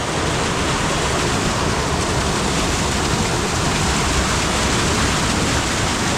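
Steady, dense rush of falling water from a waterfall, loud and continuous throughout with no breaks and no voices.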